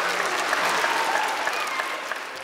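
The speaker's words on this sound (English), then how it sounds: "Let's give them a big clap," A crowd clapping warmly for two people, a steady dense patter of many hands that stays strong and fades slightly toward the end.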